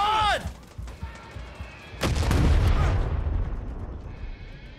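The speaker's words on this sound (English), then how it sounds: "Okay, they have mortar." Mortar fire in the Far Cry 6 video game: a sharp crack near the start, then a loud, heavy booming blast at about two seconds that rumbles and slowly fades, with scattered smaller bangs around it.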